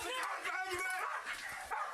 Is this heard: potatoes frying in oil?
no